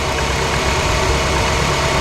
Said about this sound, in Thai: เครื่องยนต์ เดินเรียบเดินนิ่งนะครับ